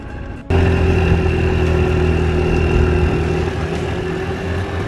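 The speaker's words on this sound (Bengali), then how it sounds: "এই প্রথমে দেখছেন স্কুটার চলতেছে" A scooter's engine runs steadily while riding on a road in Europe, a continuous mid-pitched drone that starts abruptly after a brief moment and holds at an even, close level throughout.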